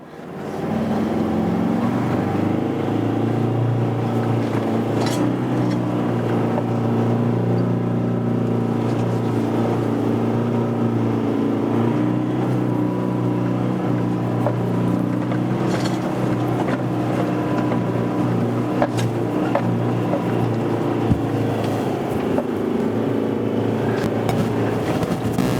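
A 4x4 in first gear ploughs through soft sand on Fraser Island, its engine holding a loud, steady, close drone with low rumble for the whole stretch and no talking.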